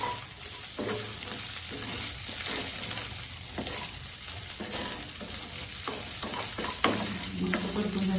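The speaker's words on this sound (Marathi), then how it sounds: "2च मिनिटं फक्त आपल्याला परतून घ्यायची" Leftover cooked rice being sautéed and stirred in a pan after a cumin and mustard-seed tempering, with a steady close sizzle and frequent scraping stirs.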